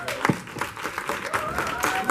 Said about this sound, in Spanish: un aplauso para Consuelito Duval